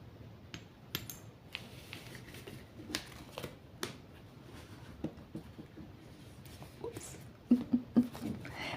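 Tarot cards are shuffled and handled for a reading, giving soft, quiet taps and riffling slaps scattered across the clip with a few sharper clicks near the end.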